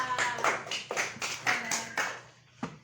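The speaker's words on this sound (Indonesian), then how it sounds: "Saya beri tepuk tangan untuk Yazifa." A short burst of clapping from a small group in a third-grade classroom, uneven slaps with a few sharp claps standing out, fading toward the end.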